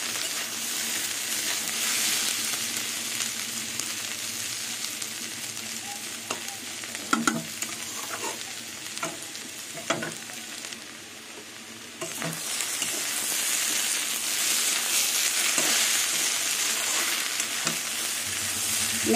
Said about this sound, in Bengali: সব মশলা দিয়ে ভালো করে মিশিয়ে নেব